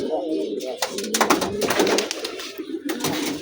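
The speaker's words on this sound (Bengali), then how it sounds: "তারপর আরও বেশি ডাকাটাই করে কবুতরগুলি" Pigeons, including a red-eyed male, coo repeatedly in a low, throaty rhythm, close by, with flapping and shuffling noises mixed in; no one speaks.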